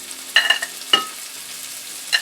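Tuna medallions sear in a hot pan with toasted sesame oil, giving a steady close sizzle broken by a few sharp clinks and taps of utensils.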